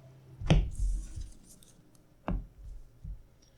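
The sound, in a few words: shuffling a deck of playing cards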